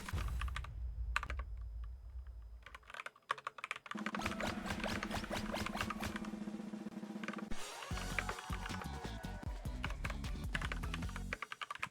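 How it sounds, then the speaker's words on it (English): Rapid typing on a computer keyboard: a dense, irregular run of close, crisp key clicks and clatter, with brief pauses between bursts and a low rumble at the start. "I'm typing out the message"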